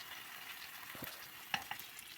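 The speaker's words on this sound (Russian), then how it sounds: "ставим сковородочку, наливаем алие и обжариваем, как обычные, беруны." Potato pancakes frying in oil in a pan give a soft, steady sizzle, with a few light clicks of a utensil near the end.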